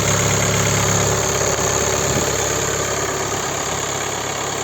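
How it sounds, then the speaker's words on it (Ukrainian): A 2017 VW Touran 2.0 TDI 150 hp diesel engine idles steadily and loudly throughout, a constant rumbling drone with a faint mechanical knock and no voices. "Двигун працює згідно того, що я знаю, екстра нормально, без нюансів"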